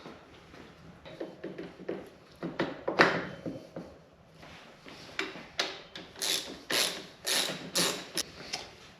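A torque wrench tightening the front axle on a BMW F650GS Dakar motorcycle fork, giving close, uneven ratchet clicks and metallic rubbing in short bursts that quicken toward the end.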